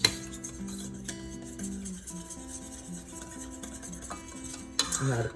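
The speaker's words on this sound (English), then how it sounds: "And you wanna whisk this." A whisk stirring praline cookie mixture in a bowl, with a faint, continuous rhythmic clinking and scraping up close that fades slightly, then a sharper clink near the end.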